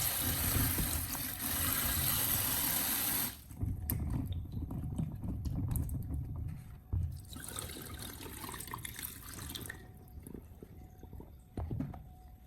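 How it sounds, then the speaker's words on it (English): Running water pours steadily, with splashing as lemons are rinsed under clean water, stopping and starting in a couple of bursts nearby. "I rinse the lemons once with clean water to remove any external dirt."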